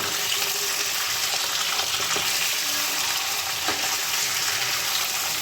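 Chicken pieces fry lightly in a pan with a continuous, even hiss of sizzling oil, close and fairly loud, with no talking over it.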